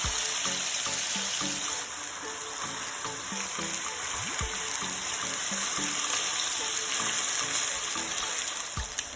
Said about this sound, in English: Now that this is nice and hot, we can add the chicken in.